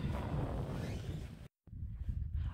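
Wind in extreme frost in Yakutia buffets the microphone with a loud, low, rumbling roar that cuts out briefly, then gusts back.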